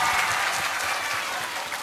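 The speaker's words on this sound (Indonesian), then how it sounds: "Tepuk tangan dulu." Islamic boarding school students in Jombang, Indonesia, break into applause during an event with the Vice President. The clapping is a full, continuous crowd sound, loud and steady throughout, with no talk over it.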